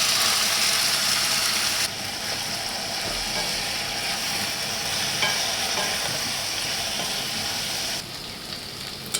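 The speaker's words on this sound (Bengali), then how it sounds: "আর যে পেঁয়াজ, ঝাল, একটু হলুদ আর লবণ, তেল দিয়ে দিই কড়াতে।" Onion, chili, turmeric and salt fry in oil in a wok, a loud steady sizzle and crackle throughout with occasional stirring scrapes, no talk.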